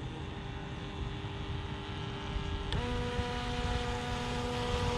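A SprintJet micro RC jet boat with a brushless motor runs on water, its thin steady whine shifting pitch partway through as it speeds up, fairly faint and distant with no talking.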